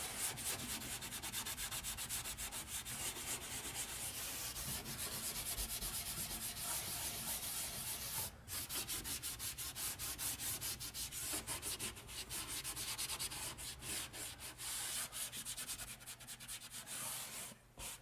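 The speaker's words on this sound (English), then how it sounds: "We got the whole wall scraped, wiped down, ready to go for our final coat." A blade scrapes drywall joint compound off a wall in continuous rasping strokes, close and steady with brief pauses, and no voices.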